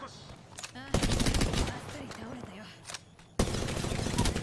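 Automatic weapon fire from the Apex Legends video game comes in loud sustained bursts, one early and another near the end, with game sounds and voices talking around them.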